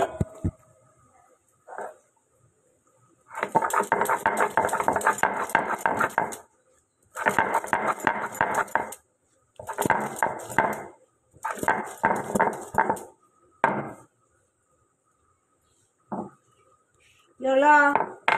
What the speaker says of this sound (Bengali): চলো আদাটা বেটে নিই